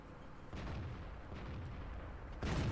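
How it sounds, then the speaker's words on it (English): Tank cannon shots boom in World of Tanks, including a heavy gun finishing off an enemy E-100. Two or three deep, loud blasts sound over low rumbling battle ambience. "the final shot flies true, and Georgie finishes off the enemy E-100"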